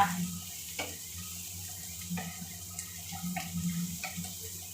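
Cumin, curry leaves, dried red chillies and coriander seeds frying in oil over a wood-fired stove, a steady soft sizzle with a few faint clinks, no talking.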